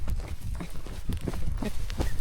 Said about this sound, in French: c'est génial de faire du cheval comme ça dans la forêt